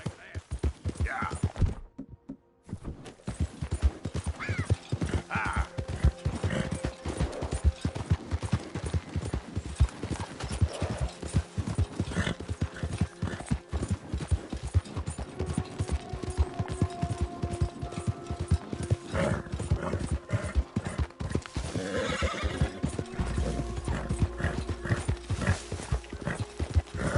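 Steady clip-clop of horse hooves trotting throughout, fairly close, with bits of talk and game ambience layered over it.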